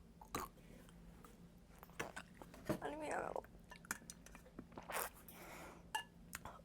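Raw onion chewed and crunched close up in an eating challenge, with scattered wet bites and crunches, a few louder snaps and brief rustles between quieter mouth sounds.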